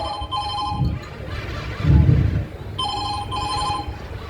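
A mobile phone rings at a street play, its electronic ringtone chiming in repeated bursts with a pause between them, fairly close and clear, with brief low thumps and voices in the background.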